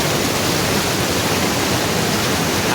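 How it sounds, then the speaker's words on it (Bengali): Ghagra waterfall at Belpahari in Jhargram, heard as a loud, steady rushing roar of falling water that fills the whole moment without pause. "তবে আপনারা যদি বেলপাহাড়ি আসেন অতি অবশ্যই একবার ঘাগড়া জলপ্রপাতটা দেখে যাবেন।"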